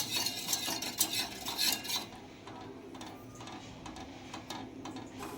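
A spoon scrapes and clinks against a pot in steady stirring strokes while hot ambil batter cooks, louder at first and then softer.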